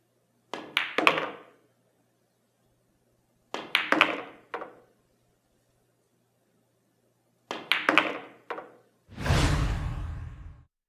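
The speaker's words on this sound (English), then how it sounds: "Since the shot is straight on, a stun shot is the perfect solution to avoid a scratch." Pool balls on a table during straight-on stun shots: three clusters of crisp knocks and clacks, separated by pauses, as the cue strikes the cue ball and it hits the object ball, closing with a brief swishing rush.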